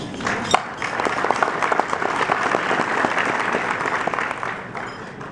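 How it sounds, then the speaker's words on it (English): Steady, dense applause from an audience at a Palm Beach County civic installation ceremony. It fills about five seconds at a constant level with no talk over it. "please give yourself a round of applause."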